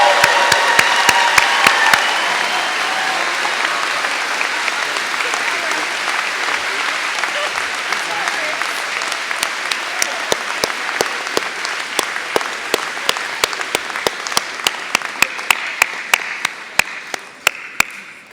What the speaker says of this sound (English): Please join me in a round of applause for the Masters of Public Policy 2019 graduating class